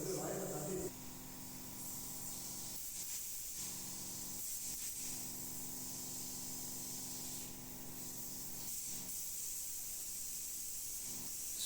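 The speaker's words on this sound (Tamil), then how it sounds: "இப்போ பாலிஷ் ஸ்ப்ரே பண்ணிடலாம்." Wood polish sprays onto a wooden door in a soft, continuous hiss, broken by a few brief pauses between passes, fairly quiet and close.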